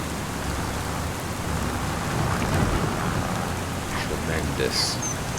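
Heavy rain pours steadily in Farming Simulator 25 with a low rumble of thunder underneath, a dense, continuous wash of sound.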